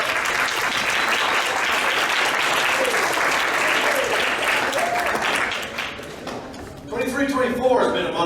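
A large audience at a college athletics awards banquet applauds loudly and steadily for several seconds. The clapping then thins and fades, and a voice begins speaking near the end.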